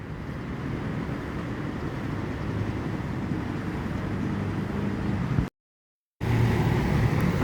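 A Hino RK8 260 bus drives past on a highway, a steady low engine and road rumble holding throughout, briefly cut out near the end before resuming.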